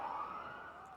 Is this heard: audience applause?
no